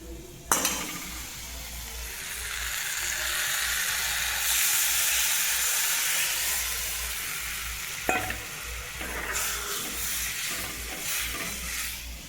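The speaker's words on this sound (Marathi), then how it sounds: "आता हे बेसन पीठ मी कढईमध्ये टाकते" Continuous sizzling and bubbling of gram flour batter cooking in a hot wok, with a couple of sharp clinks of a utensil against the pan.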